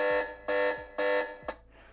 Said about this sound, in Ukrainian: Тривожний дзвінок.